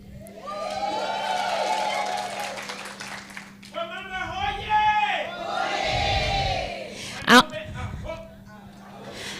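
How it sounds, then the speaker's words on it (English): A room full of people cheering and whooping for women at an International Women's Day 2024 event, a loud rising crowd roar with shouts and some clapping, swelling in waves with a sharp cry near the end. "Can we have a cheer for women today?"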